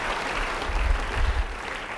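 A church congregation claps together in a steady wash of applause, briefly and moderately close.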